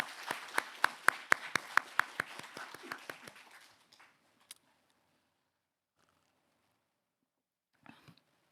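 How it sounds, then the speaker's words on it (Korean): Congregation at a Sunday church worship service applauds in welcome, a fast burst of loud, close hand claps that thins out and fades after about four seconds, leaving near silence with a few faint stray sounds. "우리 박수로 다시 한번 환영하겠습니다"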